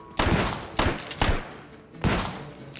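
Four loud gunshots from a cut-down mare's leg lever-action rifle in the VR shooter game H3VR, each a sharp blast with a short echoing tail, spaced irregularly about half a second to a second apart.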